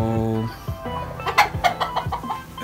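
A rooster crows loudly and close, one drawn-out tonal call, followed by a run of sharp, uneven clucks from the fowl.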